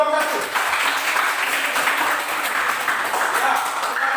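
Steady applause from a classroom audience for presenting group 1 during a teaching practice session, a continuous dense patter of clapping that holds evenly throughout.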